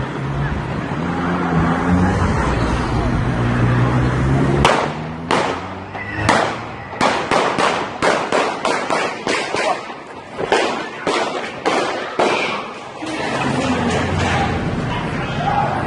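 Gunfire from a shooter outside a McDonald's restaurant in Munich: a rapid string of sharp, loud cracks in irregular bursts, heard over steady wind and street noise with voices in the background.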